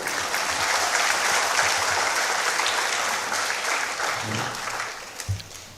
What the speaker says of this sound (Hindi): इससे जोरदार तालियों से इसका इस्तकबाल किया जाना चाहिए